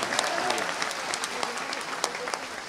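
Crowd applause at a political rally, a dense wash of clapping with sharp individual claps standing out, steady and moderately loud for under three seconds.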